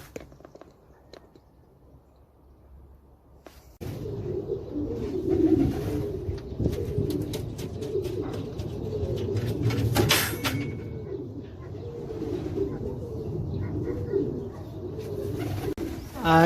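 A pigeon visiting a loft coos repeatedly, low throaty calls close by, with scattered clicks and rustles around it.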